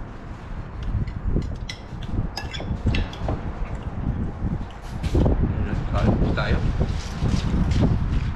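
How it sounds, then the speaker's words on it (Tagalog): Strong wind buffets a rooftop, producing a constant heavy rumble and microphone gusting throughout, with a person talking over it. "Lakas ng hangin."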